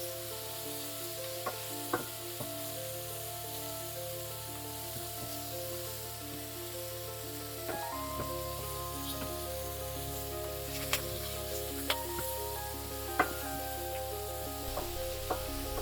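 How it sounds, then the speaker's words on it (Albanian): Soft, steady sizzle of leeks frying in a pan with occasional sharp pops and crackles, under a constant low mechanical hum. "Do i skuqesh një qik presh"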